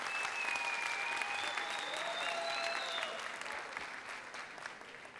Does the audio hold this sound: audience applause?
yes